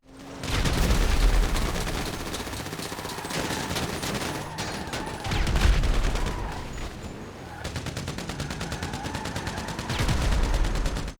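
Bursts of automatic gunfire and rapid shots rattle through a GTA Online lowrider mission as passengers gun down enemies from a moving car, dense volleys in several waves over game noise.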